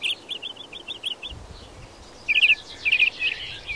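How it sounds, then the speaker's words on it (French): Small birds chirp in a forest in quick repeated high notes, with a brighter burst of tweets later over a faint rustling background. "Petit Midi adore écouter les oiseaux chanter."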